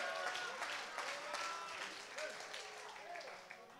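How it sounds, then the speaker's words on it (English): A congregation at a prison church service claps steadily, faint and somewhat distant, with voices talking over the applause. "You ought to clap for the Lord right there"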